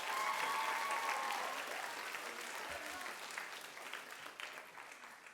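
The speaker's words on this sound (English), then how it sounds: "Big round of applause to these two." A school audience at a middle school geography bee claps for two finalists, a steady, moderately distant round of applause that holds for several seconds and slowly thins.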